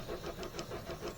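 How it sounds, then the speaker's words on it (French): Starter cranking on a Peugeot 206 running on ethanol fuel, a steady rhythmic churn of repeated compression pulses, close and moderately loud, with no talk over it. "premier coup de démarreur, c'est normal, c'est de l'éthanol"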